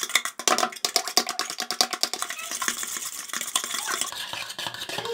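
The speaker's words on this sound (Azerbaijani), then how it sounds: "İlk öncə bir ədəd yumurtanı qırırıq. Yaxşı-yaxşı qarışdırırıq." An egg is beaten in a bowl with a utensil, giving a rapid run of close clinking and tapping strokes against the bowl, steady at first and then blurring into a softer continuous whisking.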